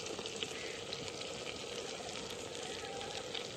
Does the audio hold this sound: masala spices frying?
yes